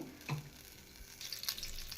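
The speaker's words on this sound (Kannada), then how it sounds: "ಅದೇ ಪ್ಯಾನ್ಗೆ ಸೇರಿಸ್ತಾ ಇದ್ದೀನಿ ಎಣ್ಣೆ ಸೇರಿಸ್ತಾ ಇದ್ದೀನಿ" Oil heats in a pan for tempering a temple-style mixed-legume sambar, with a faint, quiet crackle and a few soft clinks close by, and no talk.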